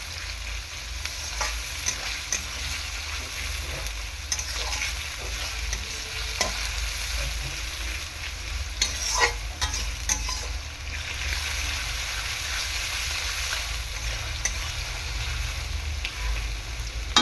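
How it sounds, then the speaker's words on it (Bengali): Onions frying hard over a high gas flame, stirred steadily in the pan, giving a loud continuous sizzle with scraping and stirring clatter throughout, no voices. "পেঁয়াজটাকে ভালো করে ভেজে নিতে হবে চার থেকে পাঁচ মিনিট পেঁয়াজটাকে ভালো করে আমি ফ্রাই করে নেবো"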